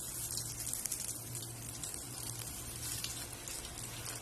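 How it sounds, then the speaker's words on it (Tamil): Coated tapioca fingers deep frying in hot oil, a dense, steady hiss and crackle of sizzling that carries evenly throughout, close and unbroken with no talk. "இப்ப இதை வந்துட்டு நம்ம டீப் ஃப்ரை பண்ணி எடுக்க போறோம்."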